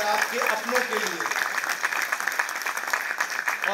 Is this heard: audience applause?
yes